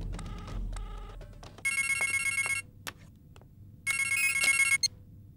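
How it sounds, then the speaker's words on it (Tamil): A telephone rings in two loud bursts of bright electronic trilling in a quiet room, preceded by a few softer dial beeps or tones, in a scene from a Tamil film. "ரிங் போயிட்டு இருக்கு."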